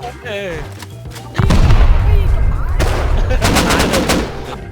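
Loud bursts of rapid gunfire and booming blasts in the video game Rust, up close, with excited voices talking over the shooting.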